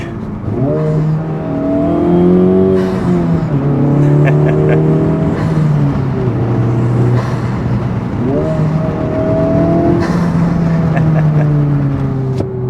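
Honda Civic Type-R fitted with a full aftermarket exhaust, heard driving and accelerating through the gears, its loud steady exhaust note rising and falling with each shift, close and continuous with no talk over it.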